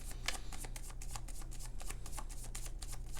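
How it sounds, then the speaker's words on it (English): Tarot cards shuffle in a rapid run of crisp riffling flicks, close and continuous over a faint low hum. "we're going to shuffle these cards"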